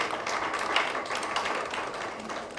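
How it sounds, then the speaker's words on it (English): Audience at a public relations and communications conference claps for Madam Ivy: continuous, even applause from a crowd, moderately loud and steady throughout, with little talk over it. "You can clap for her."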